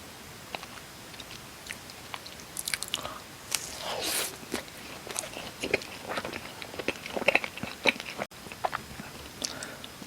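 A cheese ball dipped in corn sauce is bitten and chewed up close, with soft crunches, squishy mouth sounds and scattered sharp bites in a quiet room.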